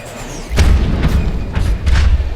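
THMPR thumper strikes land in the video game Em-8ER as deep booming thuds, two or three heavy impacts in quick succession over a low rumble.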